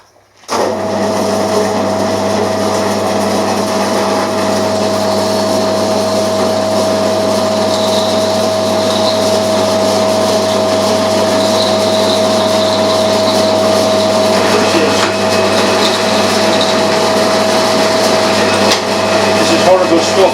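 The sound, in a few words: 5mm cobalt drill drilling super duplex steel freehand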